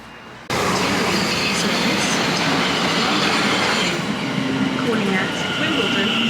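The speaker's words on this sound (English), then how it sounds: "can this be a rare 701 Arterio on the way?" A South Western Railway class 701 Arterio electric train pulls in, its loud, steady rumble and rail roar starting abruptly and holding close, with faint wheel squeal and clatter over the track.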